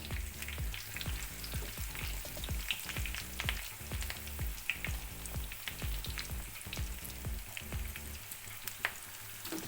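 Chicken pieces fry in hot oil with curry leaves, a steady loud sizzle and crackle with scattered pops and spatters, no voices.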